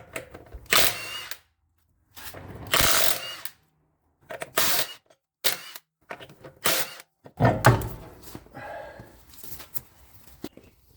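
Several loud bursts of an impact wrench or power drill removing 22mm lug nuts from a Chevy Impala, each lasting about a second, separated by short pauses, close by.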